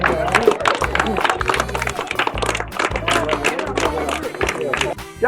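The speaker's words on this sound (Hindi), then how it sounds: "अरे वाह उस्ताद, ताली बजाओ बच्चों," A group of children claps in brisk, dense applause close by during a comedy skit, with voices chattering over it.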